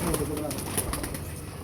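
Red-eyed pigeons of a prized breed coo softly in a loft, a short steady run of low coos mixed with faint chirps, close and continuous, with a voice partly audible underneath.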